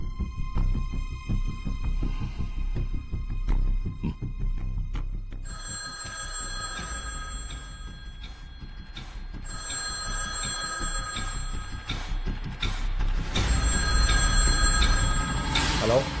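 A telephone bell rings in repeated bursts, loud and close, over a low background rumble.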